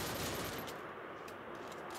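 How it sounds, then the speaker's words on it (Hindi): Rapid gunfire bursts in a mobile shooting game, dense and loud for a brief stretch, with no voices over it. "ओम भाई चचा, तुम पहले गोली चलाओ, बाकी चीजें तो बाद में हो जाएंगी।"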